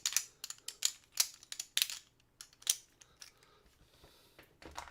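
Cards from the Too Many Bones board game being shuffled by hand, a quick series of crisp papery riffles and slaps in uneven bursts, close and fairly quiet with no talking.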